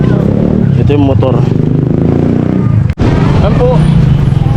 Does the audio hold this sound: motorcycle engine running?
yes